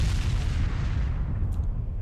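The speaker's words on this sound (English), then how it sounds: "Who the hell is calling in these airstrikes?" Airstrike explosions in the military shooter ARMA: a heavy, continuous booming rumble, loud and close, rolling without pause, with a faint higher crackle near the end.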